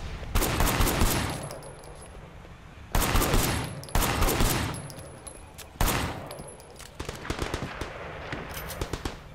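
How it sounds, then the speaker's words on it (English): Gunfire in the video game Sleeping Dogs, loud bursts of rapid automatic shots in several sharp volleys with brief pauses between, close and dominant. "shooting out of the hospital now too"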